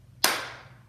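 A single sharp hand clap stands in for the letter H in a children's storytime song, a crisp, close clap with a short decaying tail and no voices.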